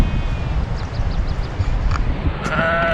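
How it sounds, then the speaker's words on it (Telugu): Sheep in a large flock bleat in a high mountain pasture on a Himalayan trek, several short wavering calls rising over a steady outdoor wind and rustle background, moderately near, with no speech. "వీళ్ళకి మొత్తం 1000 గొర్రెలు ఉన్నాయంట ఇక్కడ."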